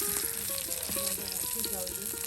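Dried rita fish sizzles and crackles in a pan as it is fried, a loud, dense hiss that stays close throughout, with faint tonal hums and scraping stirs underneath and no voices.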